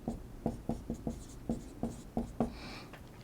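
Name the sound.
writing out chromic acid by hand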